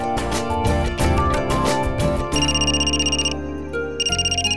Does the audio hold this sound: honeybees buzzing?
no